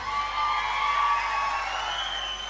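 Cheering and whooping from a large crowd at a police festival in Mangaluru, held at steady volume throughout as a dense, continuous roar honouring police officers.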